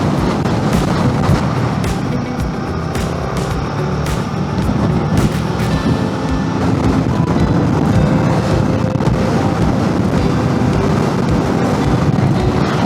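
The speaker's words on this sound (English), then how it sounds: "It's windy over here." Strong gusting side wind roars across a motorcycle rider's helmet microphone on an open road in cloudy bad weather, a steady loud rushing blast with engine drone underneath and no pauses.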